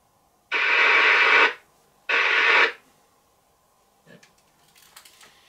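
Two bursts of harsh, garbled, unreadable amateur radio noise from a Baofeng 888S UHF handheld, the first about a second long and the second shorter, followed by faint static and clicks.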